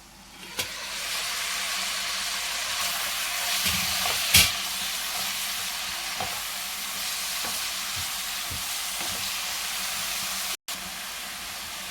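Amaranth and tomato curry sizzling steadily in a pan with pounded garlic, cumin and green chilli, a continuous close frying hiss broken by occasional stirring clinks and one brief sharper clatter.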